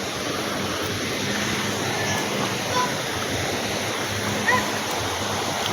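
A river in Silang, Cavite, rushing in a steady, dense hiss close by, with no pauses and faint voices in the background.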